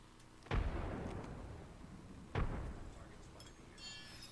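Two frag grenade blasts in a video game, the first at about half a second and the second roughly two seconds later. Each is a deep booming burst that decays slowly, heard fairly faint.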